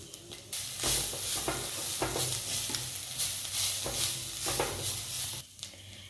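Onions and curry leaves frying in oil for a spicy potato curry, a dense continuous sizzle with repeated stirring scrapes, close and fairly loud, no speech.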